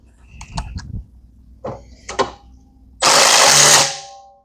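Drill driving self-tapping screws into pre-drilled solar mounting racks: a few short clicks and knocks, then one loud, close two-second burst of whirring.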